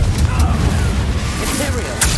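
A Confringo blasting spell explodes in the Hogwarts Legacy video game, a loud booming blast with rumbling after it, heard under a voice speaking.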